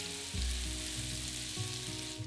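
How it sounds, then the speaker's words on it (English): Steady sizzling of minced garlic frying in a hot pan for chicken carbonara, with a few soft stirring clicks and scrapes. "add 2 cloves of minced garlic to the pan and cook for a further 30 seconds"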